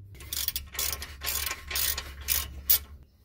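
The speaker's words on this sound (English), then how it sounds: "Yeah, this ratchet's fucked." Ratchet wrench clicking in short bursts as it tightens a bolt on a Mazda Miata gearbox during a manual conversion, about six rapid ratcheting runs separated by brief pauses, close and fairly loud, with a low hum underneath.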